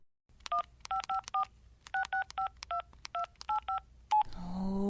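A cell phone is dialed: about sixteen crisp, evenly spaced keypad tones beep one after another in a quiet room, followed by the start of a ringing tone.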